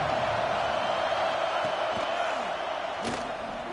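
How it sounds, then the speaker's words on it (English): A football stadium crowd roars a loud, sustained welcome, a dense unbroken wall of cheering with a brief sharp shout near the end. "This crowd bringing an ear-splitting welcome to their visitors."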